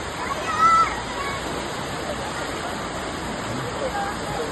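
Car driving through deep floodwater on a street after heavy rain in Latur, a steady broad rushing and sloshing of water throughout with a brief louder splash near the start.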